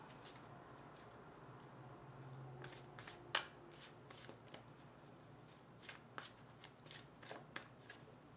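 A deck of tarot cards being shuffled by hand, faint quiet riffles and soft card snaps in irregular bursts, close and isolated with no talk.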